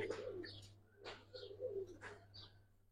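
Silver khaki pigeons coo quietly and close, three rolling calls in an even rhythm with a few light chirps between them and a low hum underneath.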